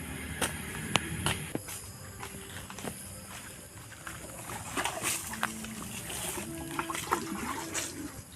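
Water is poured over a potting mix of forest leaves and soil for growing caladiums, giving soft, close splashing and trickling with scattered light taps and knocks.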